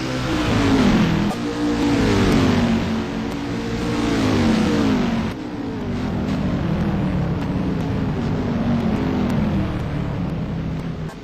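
Racing cars corner at Sugo circuit, engines droning and rising and falling in pitch as they pass through the bends, loud and continuous, with a sudden drop in the sound halfway through.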